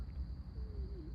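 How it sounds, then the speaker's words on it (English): An owl hoots once at night, a soft low call rising out of a quiet dark background with a steady insect-like whine above it. "I heard the owl."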